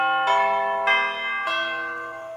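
A bell sound effect for a comic animation rings three times, bright ringing tones struck about every half second, each fading under the next, with no voices.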